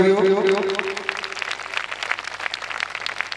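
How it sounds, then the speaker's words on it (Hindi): A congregation at a Christian prayer gathering in Ranchi bursts into loud applause that follows a short stretch of a voice, dense overlapping claps filling the rest of the moment close by. "एक बार जोरदार ताली हो जाए"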